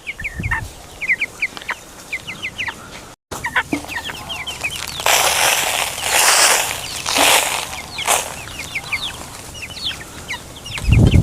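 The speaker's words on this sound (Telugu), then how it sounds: "ఇది పెట్ట ఇది పుంజు" Hens cluck and chatter nearby in quick, uneven bursts, with a rooster's louder calls rising in the middle and a sudden thump at the end.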